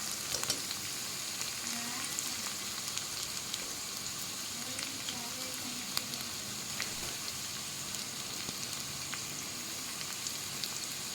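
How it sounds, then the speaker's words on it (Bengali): Potatoes and chopped onion fry in a pan for a Bengali bhetki fish-bone chorchori, giving a steady, close sizzle with faint stirring scrapes throughout and no talking. "আলুগুলো পাঁচ সাত মিনিটের মতো ভেজে নেব আমরা"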